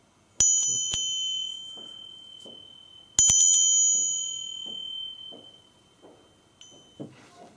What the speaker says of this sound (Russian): И вот такой тибетский колокольчик.